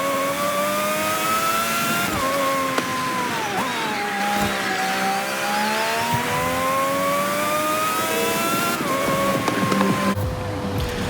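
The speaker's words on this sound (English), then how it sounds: "we'll just have to see what the Porsche engine will do" A Porsche in Forza Horizon 5 revs hard and steadily, its engine note climbing and dipping through gear changes with a continuous loud drone and no talking.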